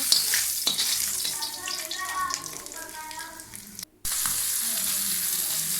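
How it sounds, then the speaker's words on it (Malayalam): Fish frying in a hot pan, a steady broadband sizzle with a few faint clinks, broken by a brief cut to near-silence before the sizzling resumes. "അങ്ങനെ മീനൊക്കെ ഫ്രൈ ഒക്കെ ചെയ്തു."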